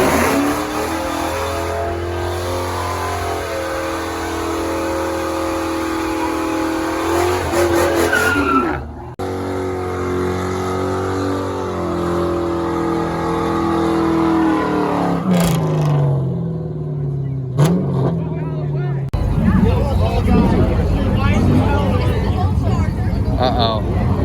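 A Ford Mustang doing a burnout at a burnout moshpit event: a loud, sustained engine roar with shifting revs and screeching, skidding tires, with voices talking over it.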